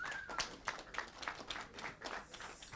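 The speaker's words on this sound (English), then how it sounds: "Can we give that a big round of applause?" Scattered, sparse clapping from an audience at an annual general meeting, a handful of uneven claps spread over a few seconds at moderate-to-faint level, no talking.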